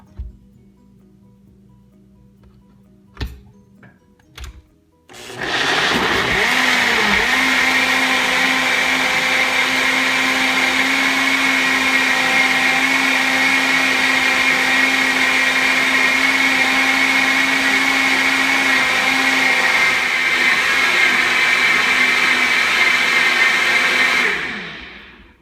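A NutriBullet RX blender with a 45-ounce canister, after a few clicks and knocks, starts up and runs at a loud, steady whine for about twenty seconds before stopping, close and alone.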